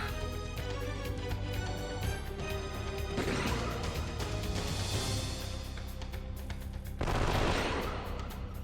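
Bursts of gunfire from the Wild Arms 3 video game crackle densely over loud game music, with repeated shots and impacts that stay loud throughout and swell near the end.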